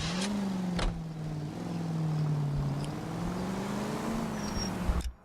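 A car engine in the video game LA Noire, idling and revving as the character gets in, a steady low hum that swells and dips, with a few clunks and a thump at the end.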